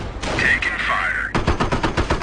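Gunfire in the World War II strategy game Company of Heroes, near a Sherman tank: a rapid machine-gun burst of evenly spaced shots follows a voice radio call, loud and close.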